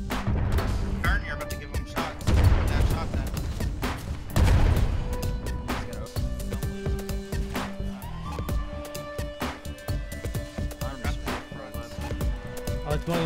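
Video game gunfire in rapid bursts and heavy booming shots, loud and repeated across the whole stretch, mixed with game sound effects and tones, while players talk excitedly over it.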